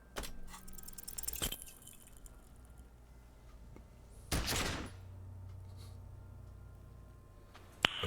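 A gunshot in the video game Disco Elysium, a sharp loud blast with a short noisy tail midway, set among quieter game sounds and clicks.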